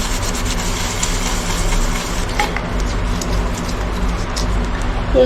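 Someone scrubs an item from a household prayer room with lemon peel, salt and lemon juice, making close, uneven rubbing and rasping strokes, with occasional light knocks and some voice underneath.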